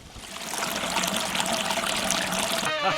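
Water trickling and splashing over a landscaped rock waterfall, a steady close-up flow with fine dribbling detail, briefly shifting near the end.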